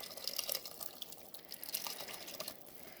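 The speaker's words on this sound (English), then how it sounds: "I'm going to put some water and some beef stock into my chili" Water and beef stock poured into a pot of chili, a soft, steady splashing trickle with light drips, close by and fairly quiet.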